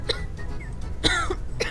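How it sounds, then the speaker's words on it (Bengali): A game character in Quarantine Zone coughs in short harsh bursts, a couple of separate coughs with gaps between them, close and fairly loud with no talking over them. "চেক করে দেখবো কাশি সাউন্ড"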